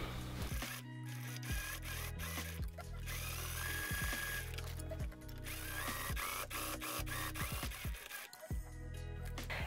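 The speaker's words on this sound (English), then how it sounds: "I'm just gonna top stitch it." A sewing machine top stitches a corduroy dress in loud, close, stop-start runs, its motor pitch rising and falling with clicks between bursts.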